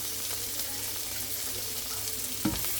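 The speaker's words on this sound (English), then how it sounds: "I'm just going to cook the onions for about 1 to 2 minutes" Diced onion and garlic fry in a pan, a soft, continuous sizzle with faint stirring movements and one brief louder scrape near the end, no talking.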